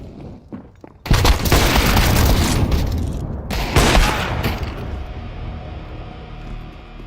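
A grenade goes off in Counter-Strike 2 with a sudden loud blast after a few quiet seconds, a roaring rumble with a second burst, then a slowly fading tail.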